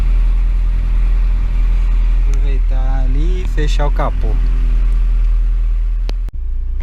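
A car engine idles steadily on a test bench while it warms up, a constant low hum running throughout with a person talking over it.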